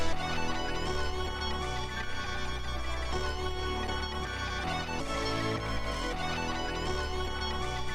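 Chopped music sample, pitched up, dense layered melodic loop with steady bass and bright high tones, playing continuously at moderate level with no voices.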